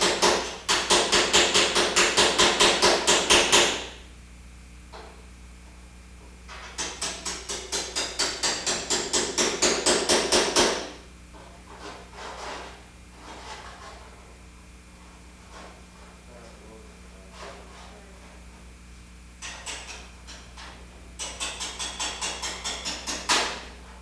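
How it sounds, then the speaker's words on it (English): A small chisel is hammered to cut away folded-over car sheet metal, giving rapid, loud bursts of metallic blows separated by quieter gaps of scraping and handling. "The folded over remainder is removed with a small chisel"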